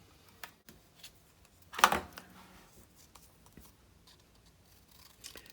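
Scissors snip through a paper gift tag in one brief, close burst of cutting, surrounded by faint small clicks and paper handling in a quiet room, with no talking.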